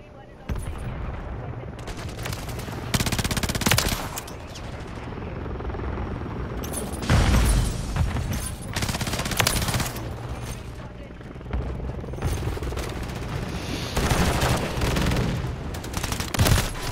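Helicopter gunfire in a first-person shooter video game, with dense rapid bursts and rotor-like rumble that swell loudly in repeated waves, under occasional shouted talk.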